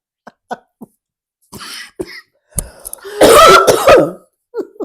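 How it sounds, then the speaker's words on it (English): A person coughs several times, with short throat-clearing bursts, then a longer harsh coughing fit and a final small cough. Close and loud. "You might have got the last cough off."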